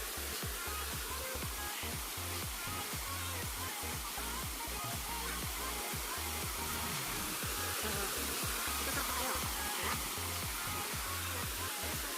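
Busay Falls in Bani, Pangasinan roars as a dense, continuous rush of falling water, steady and loud for the whole stretch with no voices standing out.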